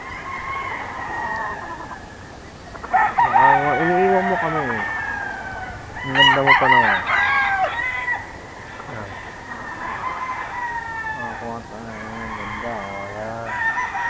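Gamefowl roosters, including stags and Red Kelso birds offered for sale, crow repeatedly at a farm, the calls overlapping from near and farther birds over a low background hum.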